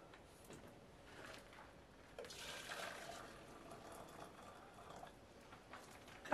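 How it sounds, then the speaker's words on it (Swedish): Water is poured into a coffee pot outdoors on a winter trip, a soft splashing fill that rises after a quiet start and carries on faintly for several seconds. "Sen ska jag hälla över vattnet i."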